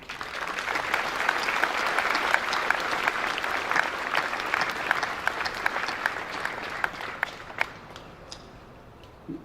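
Audience applause at the inauguration ceremony for a bronze bison statue, a sustained wash of clapping from a crowd that swells, then thins to a few scattered claps before fading out.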